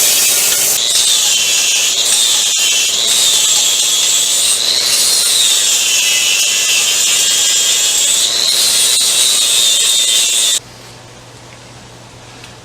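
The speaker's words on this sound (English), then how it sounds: "I just got to take my little die grinder, take off any high spots so when the battery sits in the tray, doesn't make any holes in the battery." A die grinder smooths high spots on a welded C50 battery tray, a loud, close, high-pitched whine that rises and falls as it bites into the metal, then cuts off near the end.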